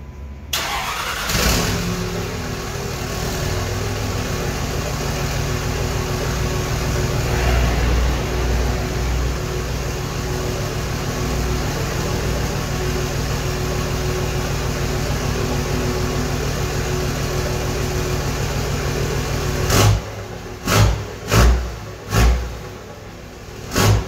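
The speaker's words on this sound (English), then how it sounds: "we will start the truck again and do a couple revs" A 5.9 24-valve Cummins diesel pickup truck engine cranks to life and idles with a steady deep rumble, then four loud revs surge and fall in quick succession near the end.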